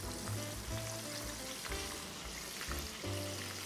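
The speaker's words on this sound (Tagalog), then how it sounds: "Okay, the oil is hot, and then you deep fry it." Fish for sweet and sour fish deep-frying in hot oil makes a soft, continuous bubbling sizzle with low rumbling surges, heard alone without voices.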